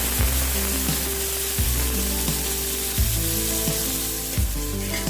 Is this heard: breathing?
no